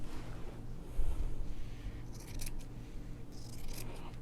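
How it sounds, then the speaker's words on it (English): Scissors snip through quilt batting by hand, trimming it even with a sewn strip set for a quilt-as-you-go table runner; several soft, close crunching cuts come in an irregular rhythm over quiet room tone. "I'm just going to trim the batting even with the strip set"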